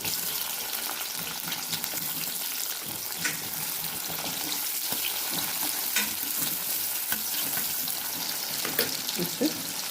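Thinly sliced onions sizzle and fry in hot oil with dried red chillies, a steady close crackle with occasional stirring scrapes throughout and no talking.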